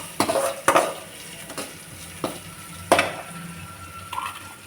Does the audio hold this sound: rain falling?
no